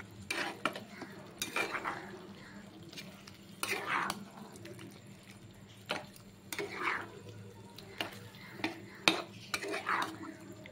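A spoon stirring mutton with spices, including Kashmiri chilli powder, in a pot, giving soft scraping and clinking strokes in irregular bursts, close but quiet over a low background hum.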